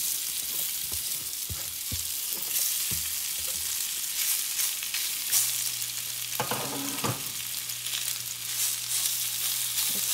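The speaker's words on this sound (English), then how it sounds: "start frying it." Steady, loud sizzling of beef frying in hot oil in a skillet, a dense crackle throughout with occasional clinks and stirring knocks, no voices.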